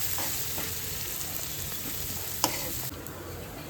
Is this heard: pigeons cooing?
no